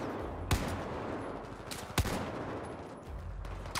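Gunshots ring out in a Battlefield 4 campaign firefight. Sharp separate reports crack over a rumbling backdrop, with the louder ones falling about a second and a half apart.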